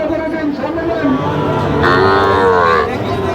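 A cow lets out one loud, drawn-out moo at a cattle market in Gazipur. Nearby people talk and a crowd murmurs throughout.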